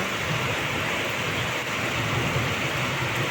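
Heavy rain pours steadily and densely, a loud, unbroken hiss that fills the scene without variation or voices.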